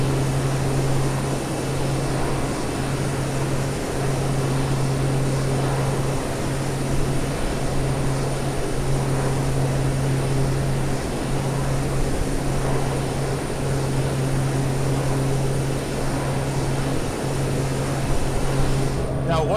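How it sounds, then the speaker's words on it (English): The engine of the FSReborn FSR500 drones steadily through the climb in a flight simulator, a constant propeller hum with a low tonal whine and some talk over it. "just how good the sounds are in this airplane. Both internal and external sounds"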